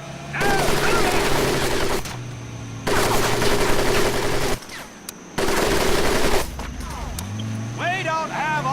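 Sustained machine-gun fire roars over a mud pit at a Medal of Honor: Pacific Assault boot camp, coming in long loud bursts broken by short gaps, with a drill instructor's shouting under and between the volleys.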